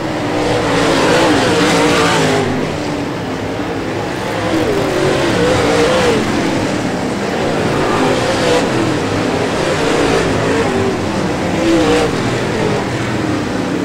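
Super late model race cars roar around Brownstown Speedway, a dense, loud, continuous engine din with rising and falling revs as the pack circles the track, under a faint race commentary voice.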